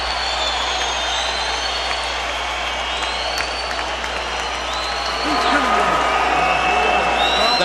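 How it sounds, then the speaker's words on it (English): A boxing arena crowd in Tampa roars and applauds ecstatically after a Roy Jones Jr. fight, a loud, sustained wash of cheering and whistles that swells near the end, with an announcer talking over it. "The crowd is ecstatic,"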